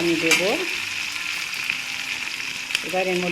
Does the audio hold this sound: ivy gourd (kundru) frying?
yes